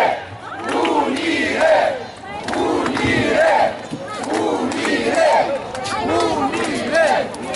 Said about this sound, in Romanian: Aplauze pentru el!